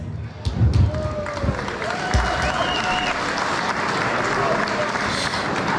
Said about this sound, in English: let's have another big round of applause for some more excellent fighters